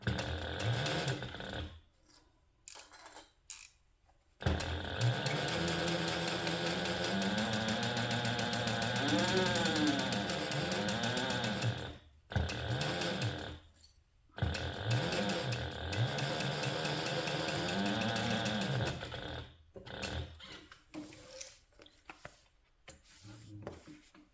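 A sewing machine stitches a handbag seam at a half-inch allowance in several long runs, a loud, close, rhythmic mechanical buzz with short pauses between bursts.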